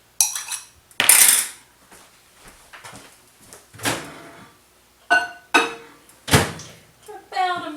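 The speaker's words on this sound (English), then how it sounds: "Let me stick this in the microwave." Kitchen clatter as a dish of homemade broccoli cheddar soup goes into a microwave: ceramic and cutlery knocks, a door opening and shutting, and sharp clunks in separate bursts, close by with some brief talk.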